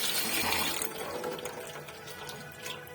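Cold water rushes from a tap over freshly boiled, drained pasta, a close steady splashing pour that gradually softens.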